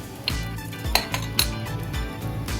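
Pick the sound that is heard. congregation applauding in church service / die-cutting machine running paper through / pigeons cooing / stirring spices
stirring spices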